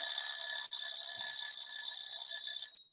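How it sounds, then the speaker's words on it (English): A loud electronic warning beep marks a chair workout class that is almost done, a steady high piercing tone sounding continuously for nearly three seconds with one brief dip, then cutting off. "Sorry about the loud beep."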